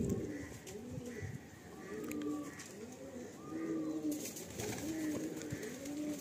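Andhra pigeons cooing steadily in a repeating rhythm of soft, rounded coos, close and continuous over a faint background hum.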